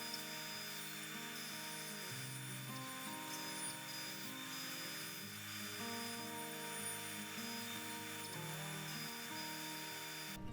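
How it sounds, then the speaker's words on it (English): An old 1800 scroll saw cuts through one-inch-thick oak with a steady, continuous buzzing whine that shifts slightly in pitch as the blade works, loud and alone throughout. "use my old 1800 scroll saw. Cutting through the 1-inch thick oak was a little bit of a challenge for it"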